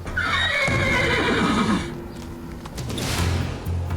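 A horse whinnies loudly and close, its neigh falling in pitch, followed by softer snorting and shuffling sounds.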